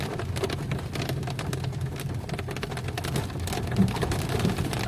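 Steady rain patters and drips on surfaces, a continuous dense wash of small droplets with no voices.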